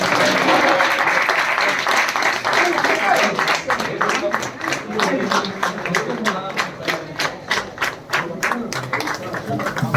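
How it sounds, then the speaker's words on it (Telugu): An audience at a New Year 2025 calendar launch at the GHMC head office claps in a loud, dense burst. Toward the end it thins into distinct, rhythmic claps in unison. "చప్పట్లు ఆపకండి."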